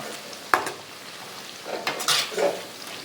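Cabbage and egg mixture fries in a pan over a medium flame while a utensil stirs and turns it: a sharp scrape near the start, a few light clinks and a soft, intermittent sizzle, close by with no talking.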